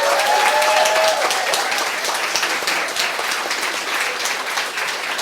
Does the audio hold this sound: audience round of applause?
yes